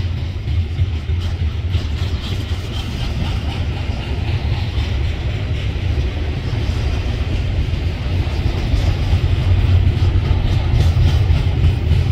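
A freight train rolls past trackside at Winslow, a steady low rumble of wagons holding constant and swelling slightly toward the end, with faint rhythmic clatter over the rails and no voices.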